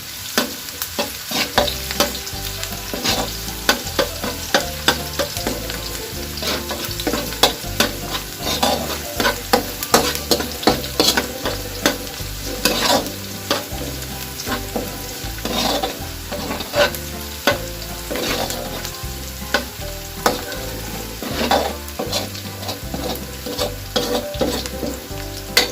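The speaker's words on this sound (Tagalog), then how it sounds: "Hintayin lang natin mag light brown ang ating garlic." Garlic sizzling in oil for ground pork guisado, a constant close frying hiss broken by frequent scrapes and taps of a spatula stirring the pan, with no voices.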